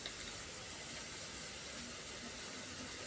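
Fish with turmeric and salt lightly frying in a pan, a faint, even hiss of oil that holds steady throughout with no voices.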